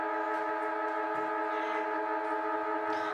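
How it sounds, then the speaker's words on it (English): A long, loud, steady quarter-time siren blares continuously with strong sustained tones at a men's Premier League match in the Northern Territory, crowd noise faintly beneath. "Quarter time siren sounds."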